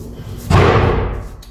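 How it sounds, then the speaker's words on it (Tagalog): A door blown by strong wind in Saudi Arabia slams once with a single heavy thud that rings and fades, set against a faint background hum. "Maingay ang pinto kasi malakas ang hangin."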